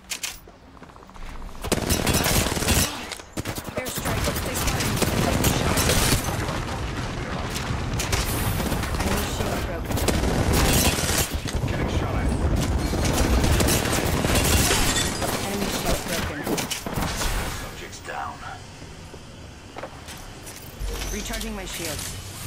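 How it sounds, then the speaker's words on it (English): Airstrike bombardment in the video game Apex Legends, a long barrage of loud, close blasts and rattling gunfire layered with mechanical clatter, running under frequent talk. "Airstrike."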